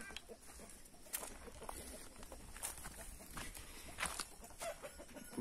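A mixed-breed rooster's low clucking and short calls sound out at moderate distance on a goat farm in rural northeast Brazil, over faint outdoor ambience with scattered bird chirps.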